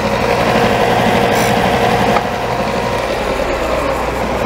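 A running machine sander, likely a disc or belt unit, touches up a homemade wooden sand rammer part. Its steady, loud motor hum dominates close by with a continuous grinding texture and no talk.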